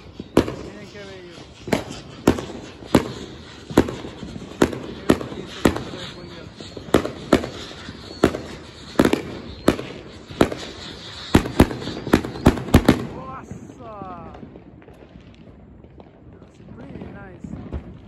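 Fourth of July fireworks in East Los Angeles in 2020, a long run of sharp booms and crackling pops at irregular intervals, some near and loud, with people talking throughout before the bursts fade out.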